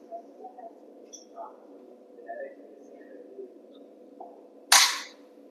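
A single sharp air gun shot cracks out near the end, loud and close, after a stretch of quiet room tone and faint small clicks and movements.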